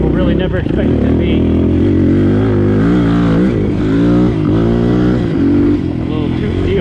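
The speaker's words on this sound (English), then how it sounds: "FMF Q4 exhaust, so it's nice and quiet for trail riding, but it actually sounds really good when you get on it." A Suzuki DR200 dual-sport motorcycle fitted with an FMF Q4 exhaust rides through woods on a trail, its engine loud and close with rising and falling revs as the rider gets on the throttle.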